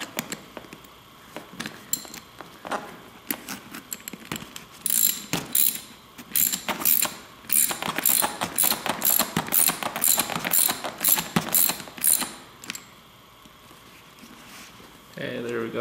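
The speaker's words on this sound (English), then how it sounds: "take your nut, put on here, make sure you get the threads right, and just go ahead and tighten that up" A nut being tightened by hand onto the threaded handle of a Burandt Flyer Lock & Ride tunnel bag, giving a long run of quick ratcheting clicks through the middle, fairly close and moderately loud.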